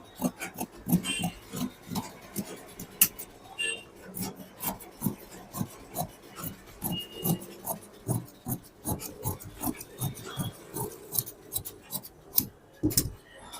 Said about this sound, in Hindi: अब मैं इसे काट करके निकाल दूंगा